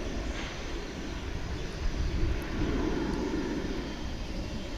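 Engine rumble from a Sun Country airliner at DFW International Airport, a steady moderate roar from some distance that thickens slightly midway through.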